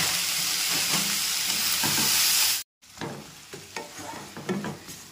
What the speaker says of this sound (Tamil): வெங்காயம் தக்காளி நல்லா வதங்கட்டுங்க